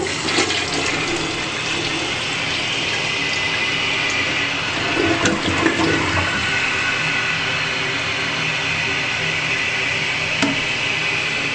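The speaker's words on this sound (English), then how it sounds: "the toilet is filling up with enough water" A toilet with a newly replaced fill valve flushes and its tank refills, a steady rushing and hissing of water running continuously at close range with a few small clunks.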